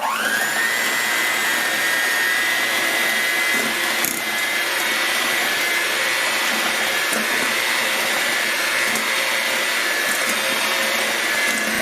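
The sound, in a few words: electric mixer mixing dry ingredients into cookie dough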